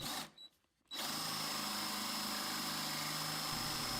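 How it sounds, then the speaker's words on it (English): A power drill drives a 1 inch Forstner bit into wood while a sleigh bed is being built. After a brief dip in sound near the start, it settles into a loud, steady whirring grind with a high whine. "I'll just put my hole through here with a 1 inch Forstner bit"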